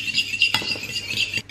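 Two eggs whisked in a bowl, a fast continuous metallic tapping and swishing close up, with one sharper clink midway and a brief pause near the end.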